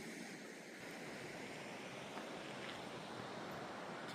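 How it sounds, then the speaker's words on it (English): A mountain river flows at night near Index, a soft continuous rush of water that stays even and distant, faint and steady with no voices over it. "All you hear is the wonderful sound of the river"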